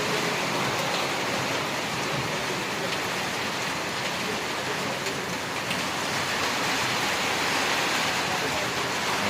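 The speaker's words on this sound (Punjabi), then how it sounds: "ਹਲਕੀ ਹਲਕੀ ਜਿਹੜੀ ਬਾਰਿਸ਼ ਪੈ ਰਹੀ ਹੈਗੀ ਆ" Light rain falls over a town with low-lying houses and shops where water pools in the streets, making a dense, even hiss that runs unbroken and fairly loud throughout.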